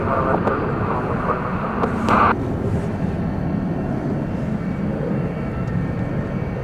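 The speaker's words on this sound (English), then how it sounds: "And there goes that A300." An Airbus A300 departs DFW Airport, its jet engine roar holding steady and fairly loud throughout with a broad rumbling wash.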